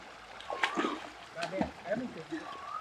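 Water splashes and sloshes a few times as something drops in, with people talking excitedly nearby.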